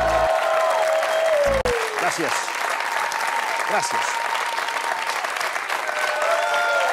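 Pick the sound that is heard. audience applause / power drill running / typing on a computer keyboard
audience applause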